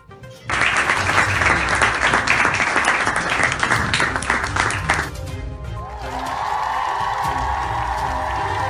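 Loud, lively applause with some cheering from the audience at a college award ceremony honouring students. The clapping lasts about five seconds, then fades under a sustained musical tone.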